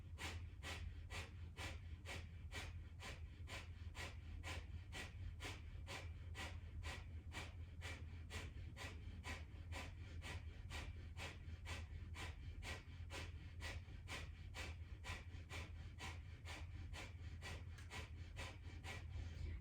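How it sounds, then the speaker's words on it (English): Breath of fire yoga breathing: rapid, even, forceful breaths pulse through the nose at a steady rhythm of about two per second, faint and close, with no talking. "Continue breathing, breath of fire, or if it's too much, just go with a long deep breath."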